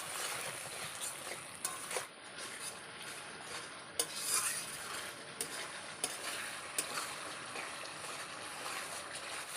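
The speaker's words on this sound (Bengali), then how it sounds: "এবার দেবো স্বাদ মতো লবণ, পরিমাণ মতো হলুদ দিয়ে নাড়াচাড়া করে আমি ভালো করে মশলাটাকে কষিয়ে নেব" Spice paste with salt and turmeric stir-fried in a pan for an egg and potato curry: quiet, hissy frying with scattered scrapes and taps of a spatula on metal, fairly faint and without talk.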